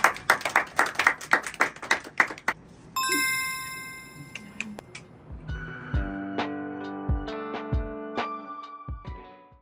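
An audience claps in quick, loud bursts at a classroom celebration launching smart-board teaching, the applause filling the first couple of seconds before giving way to bright ringing chime tones and scattered taps.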